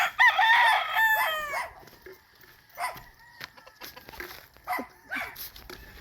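Fighting roosters at a gamecock farm in Murcia, Negros Occidental crow loudly and close, one long harmonic crow opening the clip, followed by fainter distant crows and clucks from other birds.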